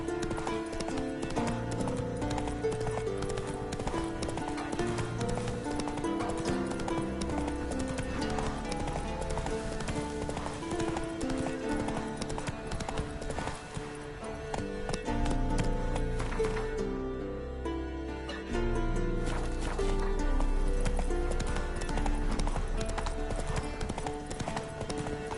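Roach, a horse in The Witcher 3 video game, gallops with a steady, rapid clip-clop of hooves throughout. The hoofbeats sit in a dense game soundscape and continue with little pause.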